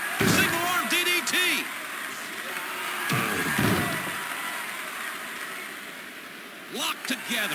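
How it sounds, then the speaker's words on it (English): A wrestler hits the mat from a single arm DDT in WWF Warzone on PS1, a sharp slam that stands out against a muffled arena crowd, with a few more impacts following. "Single arm DDT."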